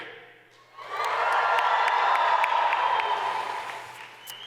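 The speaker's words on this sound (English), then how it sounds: "Graduands, if you are ecstatic to be graduating today, please give each other an even bigger cheer" A hall of graduands at an Athabasca University convocation breaks into cheering and applause after a brief hush, a sustained mid-distance swell of voices and clapping that fades slightly at the end.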